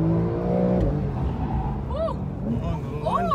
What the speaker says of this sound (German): Wir fahren gerade 180 und Matthias tritt in die Eisen